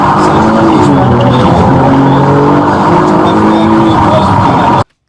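A fleeing car skids through congested downtown Brooklyn streets during a multi-cruiser police pursuit, tires squealing loudly and continuously over a roaring engine before cutting off abruptly.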